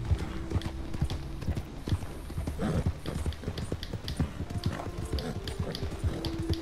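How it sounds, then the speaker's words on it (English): Horse hooves clip-clop steadily while riding in Red Dead Redemption 2, a continuous quick rhythm of hoofbeats up close with game ambience underneath and no talking. "The horse riding is always so long"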